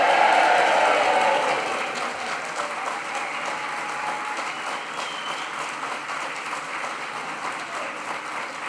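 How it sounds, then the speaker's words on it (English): Graduates and guests at a graduation ceremony for the class of 2025 cheer and applaud together, a loud burst of whooping and clapping that drops after about two seconds into steady, sustained crowd applause. "all graduates, all guests, massive cheer for the class of 2025"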